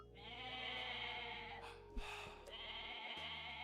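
Goat bleating in the Age of Empires strategy game during a tournament match, a sustained nasal bleat over steady game ambience, with a short thump partway through and a second bleat-like tone after.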